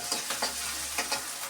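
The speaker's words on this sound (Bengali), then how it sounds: "পেঁয়াজের সাথে সুন্দর করে ভেজে নিব" Ginger-garlic paste and onions fry in a pan, giving a soft, close sizzle broken by several quick scraping strokes of a spatula over the short stretch.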